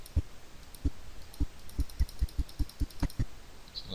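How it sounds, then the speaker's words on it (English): Clicks from repeated arrow-key presses on a computer keyboard during video editing, about eleven sharp taps at an irregular but quickening pace, close and fairly quiet, with no talking. "Just use the arrow key on the keyboard to go forward."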